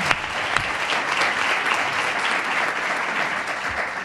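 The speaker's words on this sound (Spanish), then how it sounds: "pero le damos un aplauso también." An audience at the Izquierda Unida candidate list presentation in Ronda in 2019 gives a short, dense burst of clapping, steady and fairly close throughout, with no voices.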